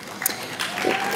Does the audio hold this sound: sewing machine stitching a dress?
no